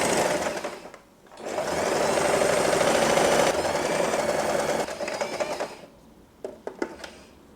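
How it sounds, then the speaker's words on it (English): A sewing machine back stitches on fabric for a ruffle headband, a brief start then a sustained run of quick, steady mechanical whirring for several seconds, ending in a few sharp clicks and taps. "So let's start sewing with a back stitch."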